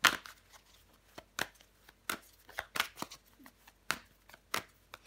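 Tarot cards are shuffled and laid out up close: sharp, papery slaps and riffles come in irregular bursts about every half second, each brief and crisp against near silence.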